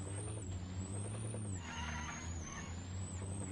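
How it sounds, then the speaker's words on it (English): An old green military truck in the video game Arma gives off a steady, low engine drone with a faint high whine, continuous and fairly loud for the whole stretch. "We got the old green truck with the old grenade launch."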